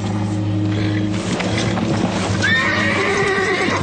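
Horses neigh loudly and hooves clip-clop nearby, with a long rising whinny breaking out midway over a steady, low background hum.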